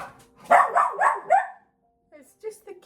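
A dog barks at a cat at a window indoors, a quick run of four loud close barks followed by a pause and a few softer yips or whimpers.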